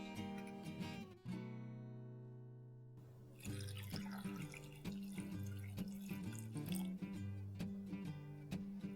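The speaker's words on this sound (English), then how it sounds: "and 2 cups of water." Two cups of water poured into a pot of beetroot rasam with garlic, ginger and green chilli, a ringing stream followed by splashes, drips and sloshing at close range.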